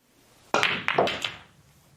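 On a pool table, a cue strikes the cue ball, followed by a few sharp clacks as the billiard balls collide, close and distinct against a quiet room.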